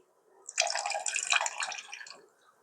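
Liquid trickles and drips from squeezed chhena being prepared for ras malai, a close, soft splattering run lasting about two seconds that fades out at the end.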